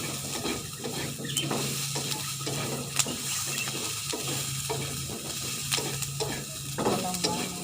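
Garlic sautés in a small amount of oil for Filipino pininyahang manok sa gata, a steady close sizzle broken by repeated rhythmic stirring scrapes of a utensil against the pan, with no talking.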